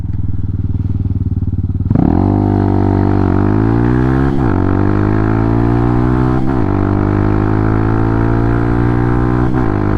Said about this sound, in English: Under engine braking.